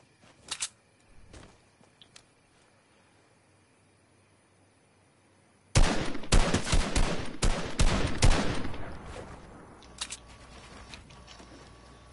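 Gunfire in the video game Fortnite, a pistol and SMG loadout, a few faint shots early, then a loud dense burst of rapid shots for several seconds with scattered later pops.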